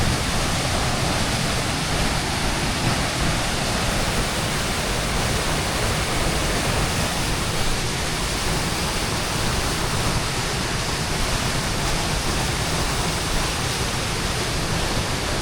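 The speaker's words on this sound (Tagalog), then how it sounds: "Malakas ngayon yung tubig dito sa falls." Waterfall at Malico, Pangasinan, running with a strong flow, a loud, constant broadband roar of falling water heard close and unbroken throughout.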